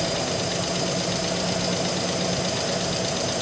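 A Mustang engine idling cold while warming up, with a slightly rough thermostat that makes it shudder now and then, a steady close drone with an even, unbroken hum.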